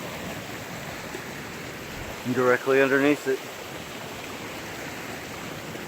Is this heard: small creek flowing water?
yes